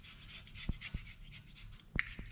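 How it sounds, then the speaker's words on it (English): A hand scraper rasps old gasket material, built-up dirt and oil off the front cover area of a 5.3L engine block. The strokes are close, dry and faint, with a few sharper ticks in between. "We can still do some scraping here."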